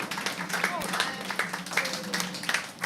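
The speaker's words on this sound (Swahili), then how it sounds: "Let's give him a standing ovation." An audience claps through a standing ovation at a recognition seminar in Mombasa, with steady moderate applause running beneath a voice speaking over it.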